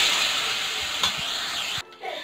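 Tomato with salt and turmeric sautés in a pan, giving a steady close sizzle and hiss with a few stirring scrapes, before it cuts off abruptly near the end.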